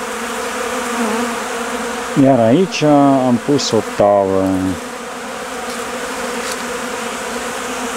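Honeybees in February crowd a tray of protein feed dusted with yeast and powdered milk, a loud sustained buzz close by while someone talks over it in the middle.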